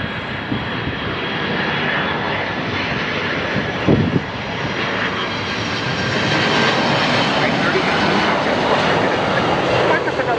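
A jet airliner takes off from runway 25 right at Los Angeles International Airport, a loud, steady engine roar that holds throughout and swells slightly toward the end, with faint radio chatter from air traffic control beneath it.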